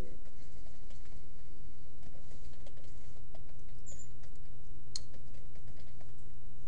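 Light keystrokes on a computer keyboard tap out a DOS command in an irregular, quiet patter over a steady low room hum, with no voices.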